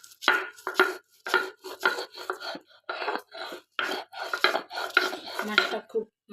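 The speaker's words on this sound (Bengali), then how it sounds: "শিলপাটায় ভর্তা বাটা শুরু করে দিলাম।" Fried mola fish being ground on a shil-pata grinding stone for a helencha greens bharta, giving a steady series of rough, scraping strokes in an irregular rhythm, close and fairly loud with no voices.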